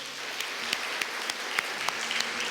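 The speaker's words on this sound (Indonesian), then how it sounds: "kita tepuk tangan dulu buat Tuhan Yesus." A church congregation clapping during a sermon, a faint, distant patter of applause with scattered sharper claps standing out.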